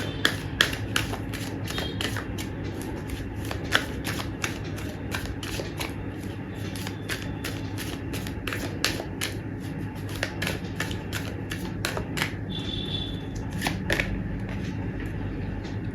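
Tarot cards being shuffled and drawn from a deck, with a rapid, continuous run of crisp flicking and riffling clicks, close by over a steady background hum and no talking.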